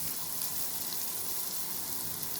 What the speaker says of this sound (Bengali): দেখো, এখন আমি পটলটাই ভাজছি।